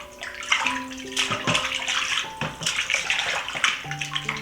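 Water runs steadily from a tap and splashes as fish is rinsed beneath it, close and fairly loud, with soft music in the background.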